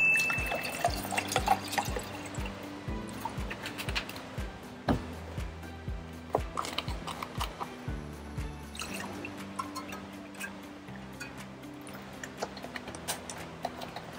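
Water and milk splash and drip into a shaker with ice amid scattered clinks and taps, fairly quiet and close, with no voices.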